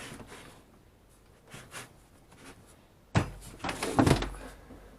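Wooden workbench drawers with OSB facing and small wooden handles, packed full, being pushed shut: soft scuffs and taps, then a loud burst of sliding, knocking thumps near the end, close by.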